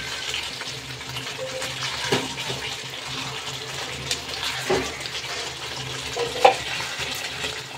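Meat with spices and Kashmiri chili powder is stirred in a pan, with soft scraping and a gentle sizzle throughout, punctuated by a few sharper spoon knocks against the pan.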